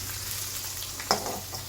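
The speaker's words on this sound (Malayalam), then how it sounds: "ചെറിയ ഉള്ളി കടുകൊക്കെ മുക്കട്ടെ" Shallots and mustard seeds fry in hot oil for beef varattiyathu, a steady soft sizzle with one sharp pop of a bursting seed partway through, close and alone.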